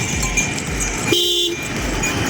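A car horn honks once in a steady half-second toot over continuous traffic rumble on a main road, fairly close and clear above the background.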